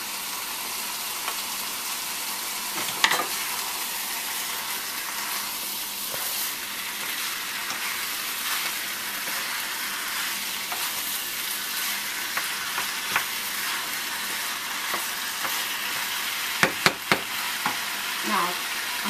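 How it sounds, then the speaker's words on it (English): Cashews fry in a pan for cashew chicken, making a constant loud sizzle and hiss with occasional sharp clinks of stirring near the end. "And this is the time I'm adding the cashews."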